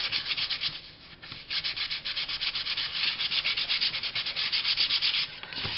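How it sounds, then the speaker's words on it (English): Paper edges are rubbed to distress them, producing a continuous close scratchy sanding sound in quick repeated strokes, fairly quiet, with no talking. "I'm just going to go over, give everything a little rub"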